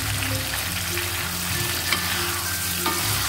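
Steady sizzling and crackling of coarse-blended chili paste sautéing in a hot pan, continuous and close, with faint background hum and a few light clinks.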